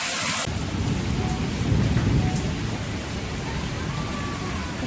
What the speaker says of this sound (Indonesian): Kebetulan cuaca di kampus Jaya Bakti ini sedang hujan